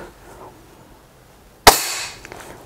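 A single sharp crack of an Apex air rifle firing a pellet, loud and close, with a brief ringing tail in an otherwise quiet space.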